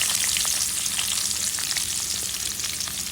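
Sliced onion hits hot oil left over from frying small tilapia fish in a pan, giving a steady, close, loud sizzle and crackle throughout with no talking.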